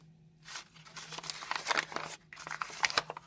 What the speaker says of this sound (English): The brown paper, you're actually going to crumple it up.